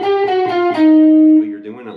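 Electric guitar lick with sustained notes bending precisely up in pitch, a held bent note ringing out, then a quicker wavering phrase; clean, close and alone.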